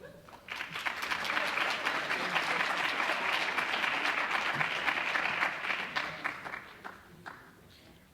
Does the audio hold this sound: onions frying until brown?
no